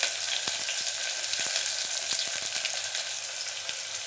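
Ginger and garlic sizzle steadily in a hot pan, a dense crackling hiss with occasional sharp pops and light stirring knocks close by.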